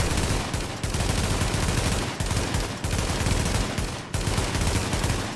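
A G36 carbine rifle fires in The Division, with continuous full-auto bursts roaring loudly and steadily, broken by a few brief pauses about every second.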